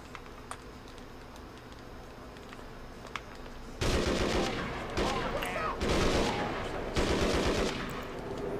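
PS2 game 25 to Life gunfire: quiet game ambience, then several loud bursts of rapid automatic shooting with short gaps between them, no one talking.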